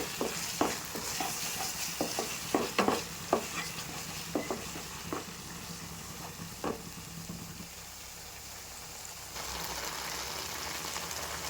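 Marua fish fries in a pan with salt and turmeric, giving a soft, steady sizzle punctuated by several sharp scraping and tapping stirs early on, then a quieter sizzle alone.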